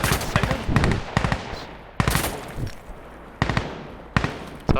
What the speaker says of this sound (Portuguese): Só as bombas explodindo lá